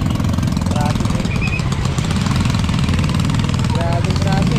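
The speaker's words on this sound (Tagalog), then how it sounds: "Grabing traffic." A motorcycle idles and crawls through heavy traffic, its engine a steady, rough, close rumble, with occasional faint chirping sounds over it.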